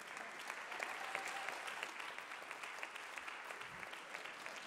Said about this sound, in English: They clapped for you.